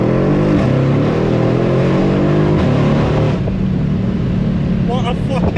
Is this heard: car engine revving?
yes